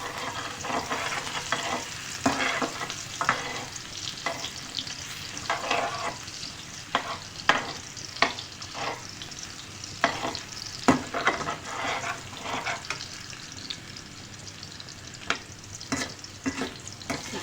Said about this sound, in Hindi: इसके अंदर हम चॉप किया हुआ लहसुन फ्राई करेंगे।